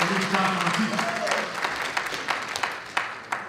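Scattered clapping from a crowd at a political party delegates conference, with a few sharper claps standing out as the applause thins.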